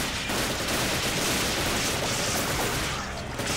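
Dense, continuous gunfire from Resident Evil: Desperate Escape, a steady loud barrage of overlapping shots lasting throughout with no clear gaps.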